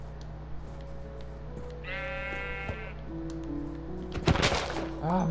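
Sheep in Minecraft bleat in a short wavering cry, moderately loud over a steady low background hum, followed by a brief clattering burst.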